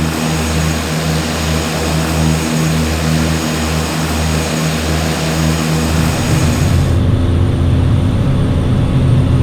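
A Cessna Caravan floatplane's turboprop engine drones loud and constant in flight, with a steady propeller throb that smooths into a broader, rougher roar near the end.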